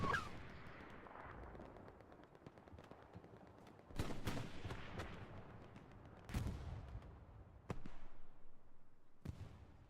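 Rockets slam into a house near the chapel on Utah Beach in a multiplayer war game, with sharp blasts at irregular intervals and distant gunfire crackling in between, each impact booming and then decaying.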